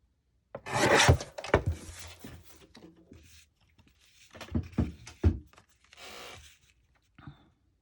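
A paper trimmer cuts paper to width, giving close, dry rubbing and rasping bursts with brief scraping strokes separated by quiet gaps.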